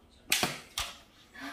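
A toy rubber band gun snaps off a few sharp clicks indoors, a quick pair of cracks followed by a third, close and crisp, with no talking.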